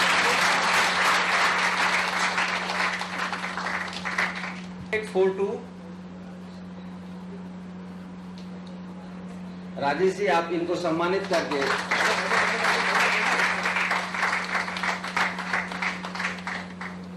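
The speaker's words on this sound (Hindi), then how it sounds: "आप सभी से अनुरोध है कृपया तालियां बजाएं।" Loud crowd applause at an award ceremony fills the room, breaks for a short spoken line by a man, then resumes strongly and continues to the end.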